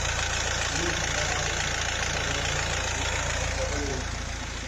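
Nissan Qashqai with 212,000 km idling steadily as its diesel particulate filter is cleaned on the car with a machine and chemicals; a continuous, even engine hum with broadband hiss, close and unbroken throughout.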